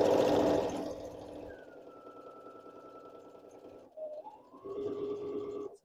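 A Baby Lock Brilliant sewing machine stitching around a dress pocket, a steady whirring motor hum that runs, pauses briefly and starts again, fairly close and moderately loud.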